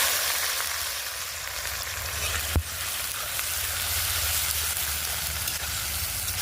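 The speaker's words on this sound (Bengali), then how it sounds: "দেখো, এবার আমি পেঁয়াজ দিয়ে দিলাম।" Onions frying in hot oil with dry red chillies, whole garam masala and bay leaves, a loud, steady, crackling sizzle with one sharp knock midway, heard close and without any voices.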